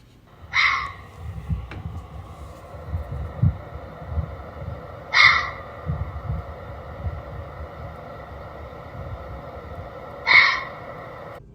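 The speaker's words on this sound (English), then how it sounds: "I'm going to play this for you so you can know if you ever hear this sound in the mountains" A mountain lion calls in a residential neighborhood, giving three short, high-pitched cries spaced about five seconds apart over a faint low background rumble.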